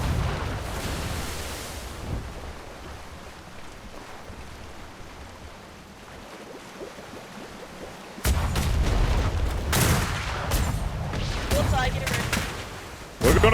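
Naval cannon fire aimed at ship sails in a Royal Navy roleplay game: distant rolling booms early, then loud close broadside volleys in rapid bursts over ocean surf, with a voice talking.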